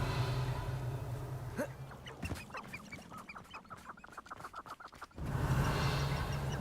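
Chickens in the Hogwarts Legacy video game give a rapid run of short clucks and squawks, fairly close and loud over steady background ambience.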